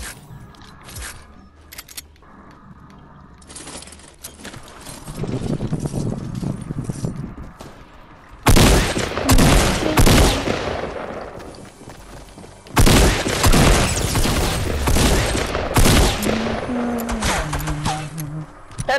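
Fortnite gunfire in loud bursts, with a long burst of shots starting partway through and a second heavy volley later, over game effects and mechanical clatter, and some faint talk early on.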